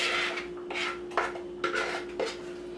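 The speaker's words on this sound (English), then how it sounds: "Let me make some dish water. Because my dishes are accumulating in my sink." Dishes clink and scrape in a kitchen sink as they are washed, several sharp knocks of plates and cutlery over a steady faint hum, fairly quiet and with no talking.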